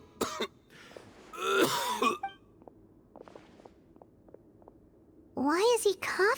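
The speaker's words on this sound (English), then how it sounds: "Why is he coughing so much?" A male character in Genshin Impact, in bad shape, coughs and clears his throat in harsh bursts at the start and end, with quiet footsteps-like ticks and brief voices in between.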